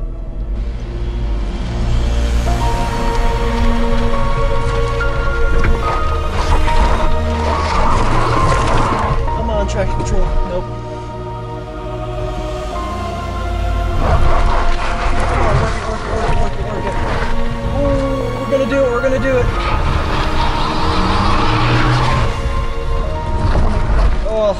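A 2018 Hyundai Kona strains up a steep off-road mine hill, its engine droning loud and close with rising and falling revs, and a brief lull near the middle before the effort resumes.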